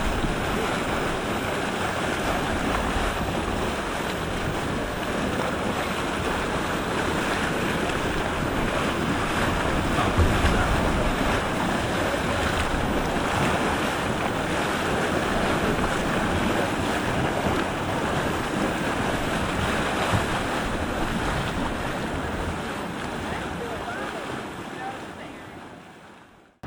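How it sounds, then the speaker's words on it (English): Steady, broadband rush of a waterfall in Yellowstone National Park roaring continuously throughout, with some wind noise buffeting the microphone. "Beautiful waterfall."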